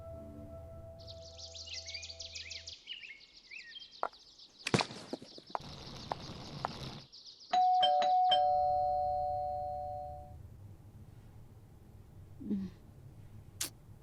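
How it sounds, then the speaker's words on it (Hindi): An electronic doorbell chimes loudly several times in a bright melodic pattern in the early morning, ending in a long ringing tone that slowly fades. "डोरबेल बज रही है, देखो ना कौन है।"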